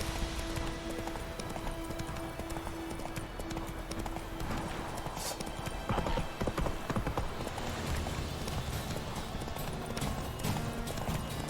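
A horse gallops in The Witcher 3, its hooves drumming in a fast, steady clip-clop under a dense layer of ambient game sound and music, with a brief mumbled voice.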